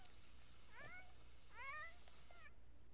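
Two quick cat meows in The Sims 4, the first short and thin, the second louder and rising, over a steady low game-ambience hum.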